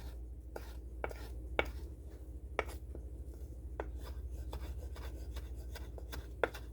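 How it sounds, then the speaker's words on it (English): A knife chops cilantro on a cutting board in a steady run of sharp, close taps, some louder than others, with no talking. "just mince up my cilantro to add to this as well"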